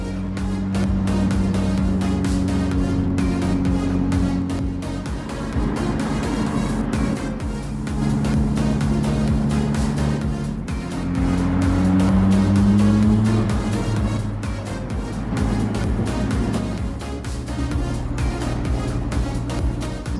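A Mitsubishi Evo X driving along, with a steady engine drone and shifting tonal hum as revs rise and fall, loud and continuous from inside the car, no talking.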